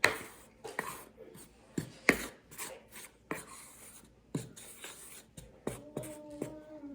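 Flour tortilla dough ingredients, with salt just added, being mixed together in a bowl, giving a series of soft, close scraping and tapping strokes at an uneven rhythm, with no talking.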